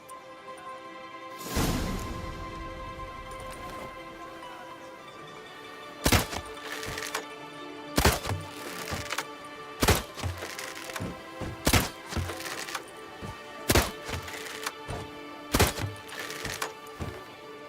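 Shots strike red targets in The Witcher 3: Blood and Wine, a string of sharp wooden thunks arriving every couple of seconds over a faint musical background, with no voices.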